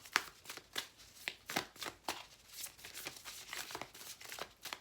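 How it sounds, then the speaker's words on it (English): Tarot cards are handled and laid out close by, with a quiet, steady run of soft slaps and papery shuffling sounds. "Let me put 3 more cards for you."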